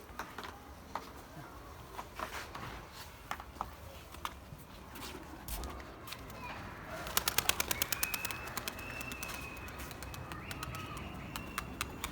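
Birds cooing and chirping in a coop, with scattered clicks and taps and a busy rattling patter midway through.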